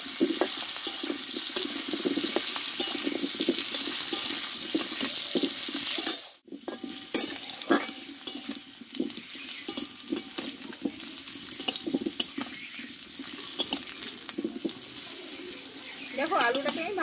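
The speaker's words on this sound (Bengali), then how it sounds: "দেখো আলুটাকে আমি ভালোভাবে কষে নিয়েছি।" Small potatoes with turmeric fry in oil, a continuous sizzle with stirring scrapes that cuts out briefly partway through and then resumes with running water and kitchen clatter.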